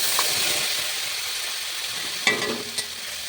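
Ground spice paste dropped into hot oil tempered with cumin, dried red chilies and bay leaves for a pabda fish dish, giving a loud continuous hiss and sizzle with a couple of brief clattering knocks near the end.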